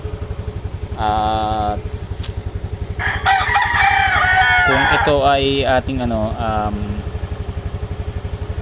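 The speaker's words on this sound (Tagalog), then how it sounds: "umaandar yung ating motor" A motorcycle engine idling, with a steady rapid low putter under someone talking, and a rooster crowing loudly nearby partway through.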